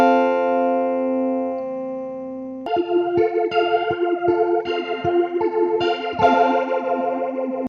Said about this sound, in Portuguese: O flanger cria um efeito semelhante ao coro, mas com um atraso muito curto e uma variação mais intensa